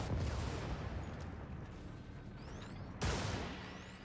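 Artillery strike in Helldivers, two heavy blasts about three seconds apart, each with a sharp onset and a long rumbling, crackling tail, with faint whistling streaks between them.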